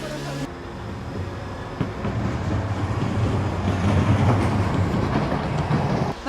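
Steady low rumble of a tram rolling along rails in Poland's Upper Silesian-Zagłębie Metropolis, with rattling and faint clickety-clack building slightly over several seconds, close and continuous.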